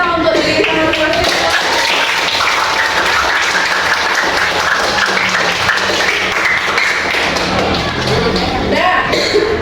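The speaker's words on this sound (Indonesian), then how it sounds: "mari kita berikan tepukan yang luar biasa untuk diri kita masing-masing" A classroom group of students applauds themselves, loud, fast and dense clapping close by, with a few voices cheering over it, fading slightly near the end.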